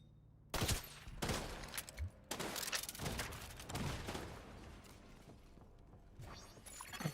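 Gunfire in The Division with an armor plate shattering, heard as a loud rattling volley of repeated shots with metallic breaking crashes, fairly dense over several seconds with no talk.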